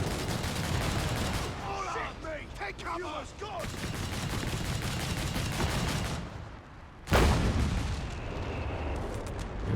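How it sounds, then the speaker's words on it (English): Gunfire and artillery blasts from Company of Heroes 3, including a Bishop self-propelled gun firing, rumble through a busy battle, with a sharp loud boom standing out near the end. "There's that bishop firing."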